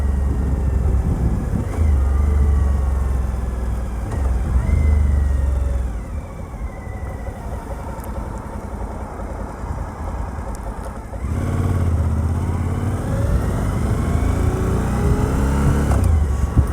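A Suzuki V-Strom 1000 motorcycle engine pulls at low revs around 2100 RPM while riding, a steady, loud, deep rumble with wind noise, easing off midway and then building again.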